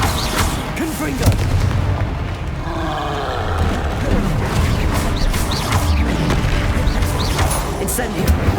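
Confringo fire spells bursting in the Hogwarts Legacy video game, a dense run of booming blasts and crashes layered with busy combat effects and shouted spell voices throughout.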